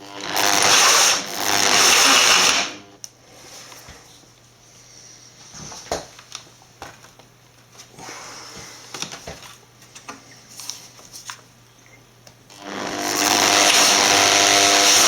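A hole saw with its pilot bit cuts through the casing of a Dell Inspiron One 2320 all-in-one computer, starting with a loud sustained grinding whine, dropping to quieter scraping and clicks, then rising to loud continuous cutting again.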